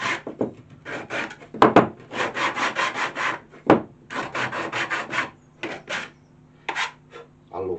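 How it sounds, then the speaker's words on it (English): Mahogany lamp pieces are sanded by hand along their edges, a rapid series of close, rasping back-and-forth strokes in bursts, with a couple of sharper knocks of wood in between. "Now if I get a bit of sandpaper, I can just quickly clean up the edges."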